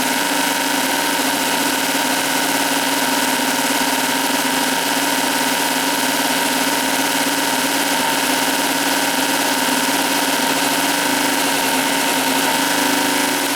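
A motorized bicycle powered by a converted chainsaw motor runs steadily, a loud, buzzy, unbroken engine drone with a constant high-pitched whine and vibration throughout.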